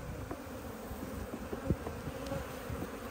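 Honeybees buzzing around an open beehive make a steady, dense hum, with a few individual insects passing close by.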